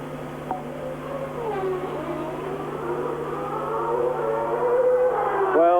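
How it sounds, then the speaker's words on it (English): A 1994 Formula One car with a Ford Cosworth HB engine at speed on track, its engine note holding a loud sustained wail that dips and climbs through gear changes, swelling toward the end of the lap segment. "Martini got a little bit wide entering into Tosa. The car slid."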